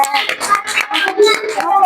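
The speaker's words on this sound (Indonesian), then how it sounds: "Tepuk tangan dulu buat kelompok terakhir" Classroom of young pupils clapping for the last group, a brief burst of mixed hand claps with children's voices chattering over it.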